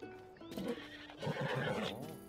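A horse in the video game Zelda: Tears of the Kingdom gives a short, close whinny that rises and falls, with faint hoof clops around it.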